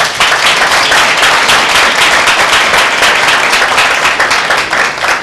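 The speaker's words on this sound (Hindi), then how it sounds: "जो लोग बोलते हैं हाँ, वो बजाएंगे ताली" Congregation at a Tuesday healing prayer meeting clapping hands together, a loud, dense and continuous burst of applause from many people that carries on without a break.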